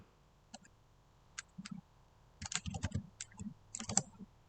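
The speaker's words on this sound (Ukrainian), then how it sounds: "тепер маємо це число зчитати з клавіатури" A computer keyboard is typed on in short irregular bursts of crisp clicking keystrokes, close and fairly quiet, with no talk over it.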